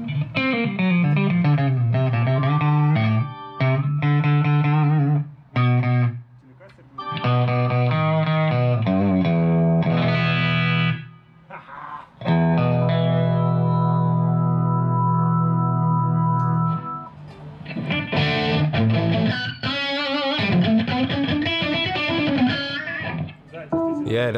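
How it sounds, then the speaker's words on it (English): Telecaster electric guitar played through an amp during a studio jam, loud and continuous with sustained, effects-colored notes and slight distortion, phrased in bursts separated by brief pauses. "Yeah, it does sound like Telecaster."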